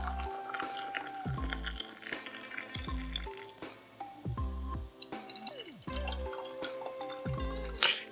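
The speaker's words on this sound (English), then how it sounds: "It's gonna be a different fucking way of pouring it every time." Hot water is poured into a teapot for the wash steep of 12-year aged shou puerh tea, giving close, wet splashing and dripping with gurgling pitch sweeps in repeated pours.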